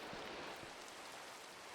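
Rain falls steadily in a video game, a soft, even hiss of faint downpour with no talking over it.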